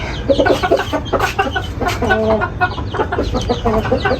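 Several native desi chickens cluck and chatter nearby in a busy, overlapping series of short calls, loud and continuous throughout.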